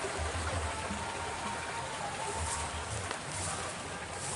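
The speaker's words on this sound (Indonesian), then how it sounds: "di sini ada sungai ya sahabat ya" A river flowing outdoors, a steady broadband wash of water running continuously and fairly near, with a low rumble beneath and no talk over it.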